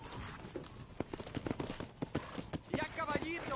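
Horse hooves clip-clop at a quick, uneven rhythm in Red Dead Redemption on PS5, close and clear, with someone speaking over the steps.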